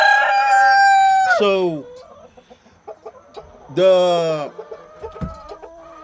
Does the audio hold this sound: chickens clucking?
yes